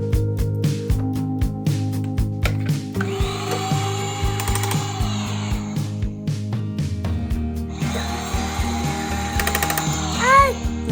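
A power drill whirs in bursts, loud and close, with rattling tool clatter and faint voices in between.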